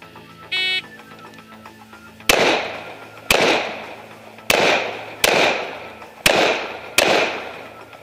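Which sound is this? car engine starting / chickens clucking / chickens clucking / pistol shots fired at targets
pistol shots fired at targets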